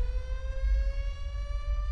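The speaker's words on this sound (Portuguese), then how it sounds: "Essa sirene maldita começou a tocar de novo, velho." A tsunami warning siren wails in the video game GTA 5, holding one steady, loud tone rich in overtones over a low rumble, with no voices.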